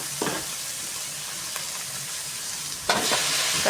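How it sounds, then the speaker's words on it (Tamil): Onions and tomatoes sautéing in a pan for brinjal sambar, a continuous close sizzle with a few scraping stirs, one stronger burst near the end. "கத்திரிக்காய் சாம்பாருக்கு வெங்காயம் தக்காளியை வதக்கிட்டுருக்கோம்."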